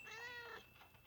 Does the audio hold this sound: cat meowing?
yes